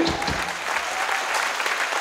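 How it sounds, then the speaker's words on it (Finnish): Audience at a performance in Heinola claps loudly and steadily, a dense crowd ovation close by that fills the whole moment without pause. "Taputitte meille tuon verran"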